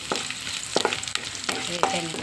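Cumin, dried chillies, curry leaves and garlic sizzle in hot oil as a tempering for sambar, a steady frying hiss broken by a few sharp crackles and stirring clinks, close and alone.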